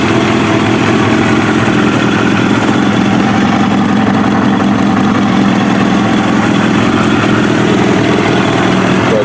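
A Kawasaki ZX7R motorcycle engine idles loudly and evenly after ignition system tweaks, a dense continuous rumble with no talk over it.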